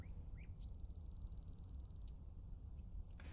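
Scattered bird chirps and calls in the video game Conan Exiles, a few brief faint notes and a short trill over steady low ambient background noise.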